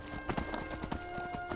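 Horse hooves clip-clop in a quick, galloping rhythm in the Skyrim video game, close and loud, with a faint steady tonal background.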